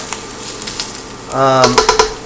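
Meatball stroganoff sizzles steadily in a hot pan while being stirred, with a louder, brighter burst of frying and clatter in the second half.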